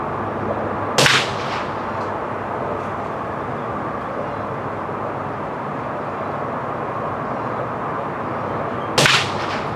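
Two sharp gunshots from a bolt-action black-powder rifle fired by a six-year-old child, spaced about eight seconds apart, loud and close over constant outdoor background noise, with no talking between them.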